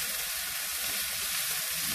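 Marble potatoes fry in a pan with a steady, dense sizzle that holds evenly from start to finish, close and fairly loud with no voices.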